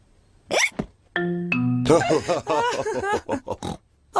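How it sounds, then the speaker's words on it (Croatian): A cartoon piglet hiccups after gulping juice too fast, giving short squeaky hiccups mixed with piggy grunts and a brief voiced note. Lively cartoon voices are present. "George je popio svoj sok previše brzo i sada ima štucavicu"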